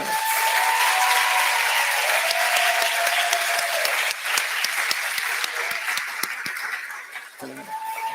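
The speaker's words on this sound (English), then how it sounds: "So can you all please give them a round of applause?" A crowd at a gala applauds steadily for about eight seconds, dense clapping with faint voices and a cheer or two, easing slightly toward the end.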